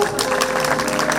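Audience applause at a Tulsi Vivah dayro folk gathering in Bharatpur, a steady, dense clatter of many hands clapping close by, filling the whole moment without a break.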